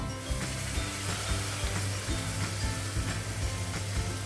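Ginger and tomato paste fries in hot oil in a pan, giving a dense, continuous close sizzle with faint scraping clicks of stirring throughout.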